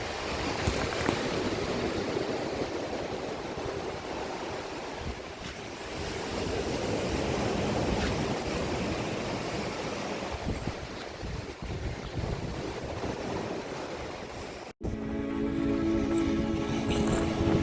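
Ocean surf and a steady breeze at Speyside wash in as a continuous broad roar, with wind buffeting the microphone throughout and a brief cut near the end, no voices.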